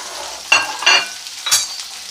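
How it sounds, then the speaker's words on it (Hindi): Cauliflower pieces for gobhi chicken frying in a pan, with a steady sizzle and three bursts of stirring scrapes, fairly close and with no talking. "इसको करेंगे हम फ्राई करके इसको निकाल लेंगे वापस"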